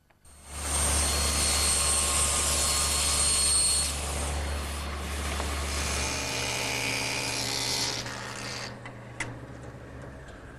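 A table saw blade cuts a dado in wood, a loud, steady high-pitched whine with a heavy low drone. It eases slightly midway, then cuts off and winds down near the end.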